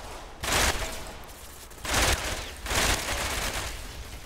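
Gunfire in a Tom Clancy shooter video game comes in three heavy, rolling bursts of rapid shots, spaced about a second apart over a low, steady background, with no voices.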